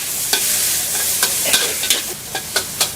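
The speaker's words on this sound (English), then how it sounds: "In goes the chili and the garlic." Chili and garlic stir-fried with hand-minced pork in lard at a Bangkok street food stall: a steady loud sizzle with a series of sharp, close scrapes of the utensil against the pan.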